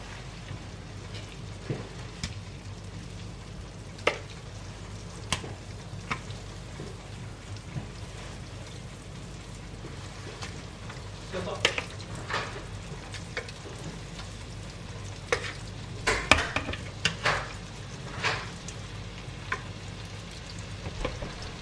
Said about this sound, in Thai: นี่ใส่เนยทากระทะหน่อยจ้ะเดี๋ยวจะย่างไก่